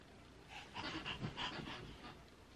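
A puppy pants quickly and softly in a rhythmic series of short breaths, close but faint, in a quiet room with no talking.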